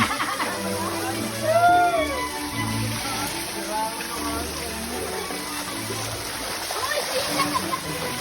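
A stream runs and splashes steadily close by at a resort in Bongabon, Nueva Ecija, a continuous rushing flow with voices talking underneath it.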